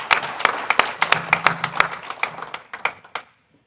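Scattered, distinct hand claps from a small group applauding South Dakota Hall of Fame inductees, uneven and close, thinning out and ending in silence after about three seconds.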